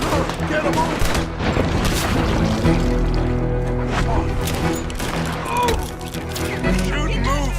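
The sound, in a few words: gunfire in a shootout, from video game Red Dead Redemption 2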